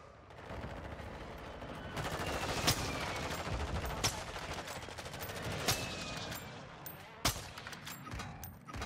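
Rapid bursts of gunfire crackle continuously, with a few sharper, louder shots standing out, like a busy firefight in Warzone 2.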